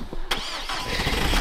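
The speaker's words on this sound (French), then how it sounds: "on va essayer de démarrer la voiture" A car engine starts after a snowfall, cranking briefly and then catching into a steady running idle that stays loud and close, with no talk over it.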